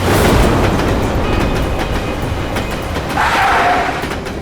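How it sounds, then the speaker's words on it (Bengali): A train rolls along railway tracks, a loud, continuous rumble with rattling wagons. A faint metallic wheel squeal rises near the end, with no talking. "ট্রেনের আওয়াজও শুনতে পেয়েছিলাম আমি"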